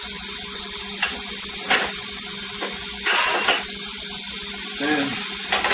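Food sizzles on a heated George Foreman grill, a steady close hiss with brief louder bursts of spitting and crackle.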